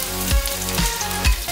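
Oil sizzles and fries in a pan on a gas stove, a steady crackling hiss with a few louder bursts, close up and with no talking.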